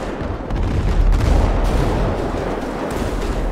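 Ship cannon fire in GTA 5 during a pirate-themed roleplay naval battle: a dense, continuous rumble of booming blasts that keeps up for the whole stretch, loud and close, with no clear gaps.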